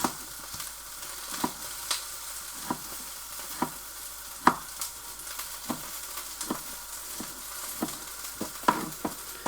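Pork stir fry for a Thai dish sizzling in a pan, a soft continuous hiss punctuated by irregular scraping clicks of stirring, close and fairly quiet with no talk.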